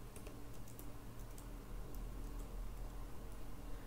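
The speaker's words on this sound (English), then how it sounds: "we can go ahead and type in a name" Typing a name on a computer keyboard for a C telephone directory program, a steady run of light, quick key clicks that continues without a break for about four seconds over a low background hum.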